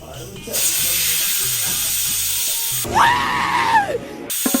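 A pressure cooker cooking rice on a home stove gives a steady, loud hissing of steam, with a brief whistling tone rising and falling near the end.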